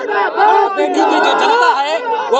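A large crowd at an election rally in Amethi chants loudly in unison, a dense wall of many voices rising and falling in rhythmic phrases.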